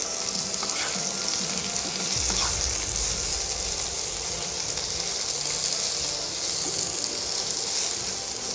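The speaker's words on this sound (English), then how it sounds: "So I'm just frying these nicely." Steady, loud sizzling of peppers frying in a hot pan, with an occasional stir or scrape, no talking.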